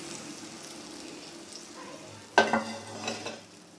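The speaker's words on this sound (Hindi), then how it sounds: "ठीक है जी, ये हमने इसको तड़का लगा दिया।" Tadka tempering for gosht nihari, with chillies and a splash of water added, sizzles in a pan with stirring clatter, then a sudden loud hiss bursts up midway and fades into steady frying.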